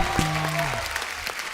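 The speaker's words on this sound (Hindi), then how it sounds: "जोरदार तालियां एक बार।" Studio audience clapping on a Hindi comedy talk show set, a short burst of applause rising at once under a brief voiced tone near the start, then settling into a steady even patter.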